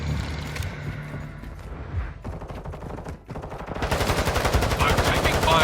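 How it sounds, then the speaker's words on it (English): Rapid automatic gunfire rattles in the Warzone 2 video game, with bursts building into a loud, dense volley toward the end over game music and radio-style voice callouts. "I'm taking fire!"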